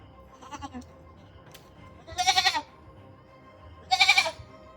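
Two loud, strained goat bleats, each about half a second, a couple of seconds apart, with a fainter bleat-like call at the start over quiet background.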